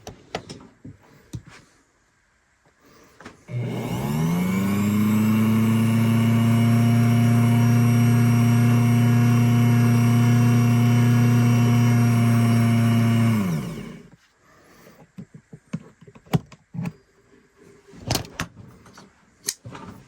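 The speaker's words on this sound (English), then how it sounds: "But we'll come over here to the bobbin winder." A sewing machine's bobbin winder runs for about ten seconds with a steady motor whine, close and loud, framed by handling clicks and rattles before and after.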